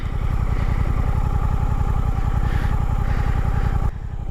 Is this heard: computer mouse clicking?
no